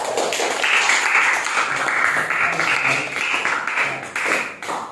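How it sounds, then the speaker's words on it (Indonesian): Students in a classroom give a round of applause for a group during a maths lesson, several seconds of brisk, uneven clapping from a small crowd, close and fairly loud. "boleh tepuk tangan untuk kelompok 4"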